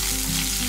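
Curry leaves and tempering spices splutter in hot oil for a school lunch-box dish, a dense, steady sizzle close by with no talking over it.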